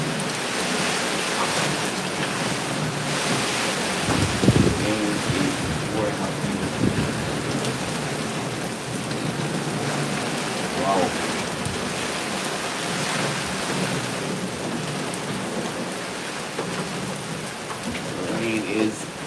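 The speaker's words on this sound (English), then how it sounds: "Rain is pouring" Heavy rain pours steadily outdoors in Spanish Town, Jamaica, during Hurricane Melissa, a dense, loud hiss on surfaces with a low thunder rumble near the start and a brief exclamation from a man.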